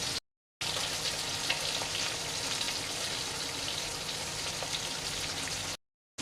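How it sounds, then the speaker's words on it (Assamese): Fish coated with salt and turmeric fries in a small pan, giving a steady, loud, dense sizzle that runs almost the whole time, broken only by brief silent gaps at the start and end. "এইয়া চাওক মই মাছটো ফ্ৰাই কৰি আছোঁ"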